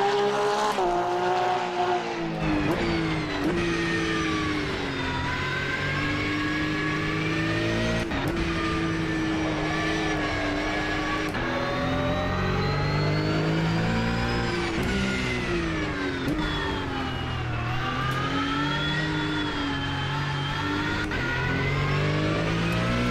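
Race car engine in Automobilista 2 revving hard through the gears at night, loud and continuous with rising and falling pitch sweeps and brief shift breaks, no voices.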